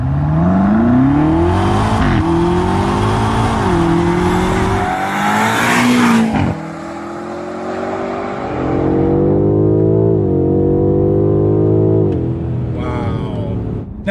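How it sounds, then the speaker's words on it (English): BMW M5 Competition engine accelerating hard, revs climbing through several rising sweeps with brief pauses at gear changes, loud and close, then settling into a steadier rising drone with faint tire noise. "I'm going to quickly show you just how good this thing sounds and just how quick it is"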